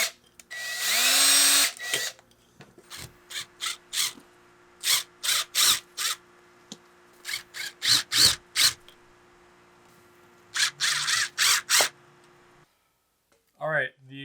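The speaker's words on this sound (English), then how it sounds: "So what I'm actually going to do is drill 3 holes in the ring of this, so the outer ring, and secure it to the wall with screws" A power drill bores three holes into the outer ring of an AC wall sleeve as a Mr Cool DIY unit goes in. Loud, close bursts of whirring are repeated and separated by quiet pauses, and there is a brief voice near the end.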